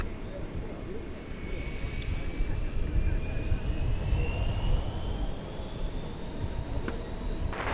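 An American Airlines jet takes off from runway 18 left at DFW Airport, a distant rising engine roar heard under steady background rumble, with a thin whine climbing slowly in pitch.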